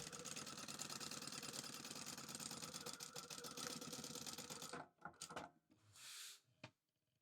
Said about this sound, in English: Now I'm going to sew along this edge